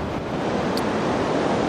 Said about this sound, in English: It's more than likely the waves.